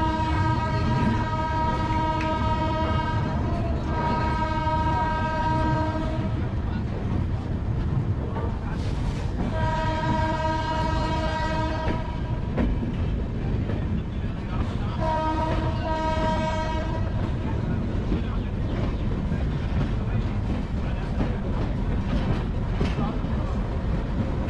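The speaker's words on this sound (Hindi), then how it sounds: "अपनी ट्रेन चेन्नई सेंट्रल से निकल चुकी है, वो भी बिल्कुल टाइम से" Chennai Duronto express train running on the line after leaving Chennai Central, a loud steady rumble of wheels on rails with several long horn blasts sounding throughout.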